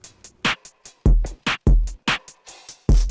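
A drum loop run through distortion and EQ, heavy and bouncy, with booming low kicks and crunchy, bright snare and hat hits in a tight, steady rhythm.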